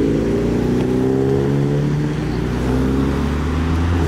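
Honda EG hatchback accelerating hard at a modified car meet, a loud, steady, rising engine roar with sweeping harmonics that holds close and continuous throughout, the kind of run that throws a flame from the exhaust.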